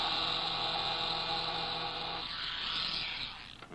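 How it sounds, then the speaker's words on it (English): An old-fashioned electric shaver held against velvet gives off a steady, close buzzing drone. Its tone shifts a little past the midpoint, and the sound fades near the end. "take this old-fashioned type of electric shaver and hold it against that velvet"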